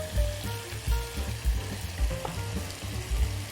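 Boiled basmati rice frying in a pan, a steady close sizzle with rhythmic stirring and tossing thumps every half second or so.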